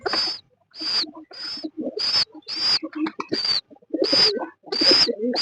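Lakkha pigeon parents feed their baby in short bursts of rapid squeaky begging and fluttering, about nine separate pulses close by, separated by brief quiet gaps.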